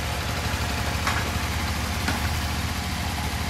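A steady motorcycle engine idling nearby, a low continuous rumble with a couple of faint clicks, no talking.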